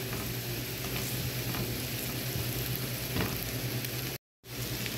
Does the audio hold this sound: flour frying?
yes